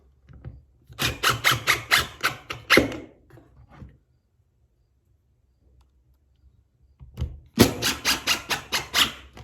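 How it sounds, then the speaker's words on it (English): Screws are driven into a wooden table saw sled with a power driver, in two bursts of rapid, pulsing whirring and squealing, close and loud, separated by a quiet pause with faint handling noise. "We'll just put the screws in."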